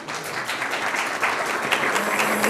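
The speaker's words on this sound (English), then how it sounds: "you can clap" An audience at a public debate on marijuana claps steadily for about two and a half seconds, a dense, fairly loud wash of hands with no voices over it.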